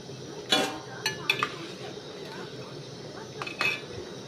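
Homemade masala stirred through a tamarind egg curry in a metal pot, a few sharp clinks and scrapes of a spoon against the pot at intervals over a quiet kitchen background.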